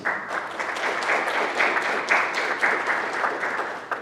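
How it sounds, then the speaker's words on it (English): Parents at a school signing day ceremony get a round of applause from the gathered audience, a steady, moderately loud patter of many hands clapping with slight swells and no talk. "let's give our parents a round of applause"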